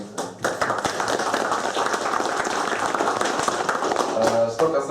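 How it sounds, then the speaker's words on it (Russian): Applause at the first session of the Yakutsk public chamber's second convocation, honoring the outgoing chairman: a steady wash of many hands clapping through the whole stretch, dense and fairly loud, with a voice briefly audible near the end. "заслуженными аплодисментами"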